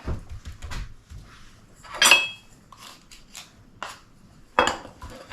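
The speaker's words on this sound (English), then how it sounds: "Sorry for all the clanking, but it's the only way you're going to get all the goodies off the spoon." A spoon clanks and scrapes against a bowl while ingredients are scraped off it for an apple upside-down cake, giving a few sharp, bright metallic knocks spaced out over quiet stretches.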